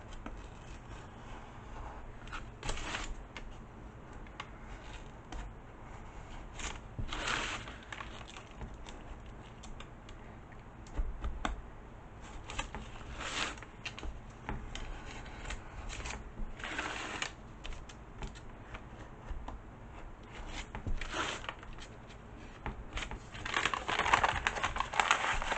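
Scraping, snipping cuts go all the way around a craft sign to free it from a paint palette, a steady run of small cutting and rustling sounds with short bursts, close and fairly quiet, without talk.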